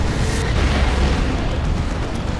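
A Fire Prism tank blown apart in the video game Dawn of War 2, a dense, loud, rumbling explosive roar with a sharp onset that holds steady as the battle carries on.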